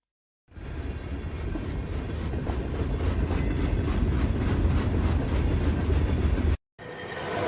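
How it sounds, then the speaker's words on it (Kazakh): A freight train rolls past at close range, a loud, continuous rumble with a rhythmic clatter of wheels over rail joints, cutting out abruptly near the end. "Жүк пойызы."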